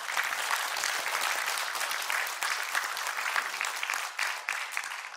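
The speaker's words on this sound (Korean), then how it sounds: "여러분들 박수 부탁드립니다." Warm applause from the audience at the launch ceremony of a Korean political party, a dense, even clatter of many hands that thins out slightly near the end.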